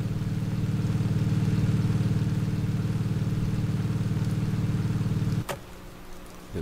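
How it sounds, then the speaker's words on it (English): A car engine idles with a steady low drone in the Roblox game Midnight Station, close and even for several seconds before cutting off abruptly with a sharp click, followed by quiet. "I hear"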